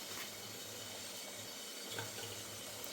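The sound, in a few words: water boiling in idli steamer pot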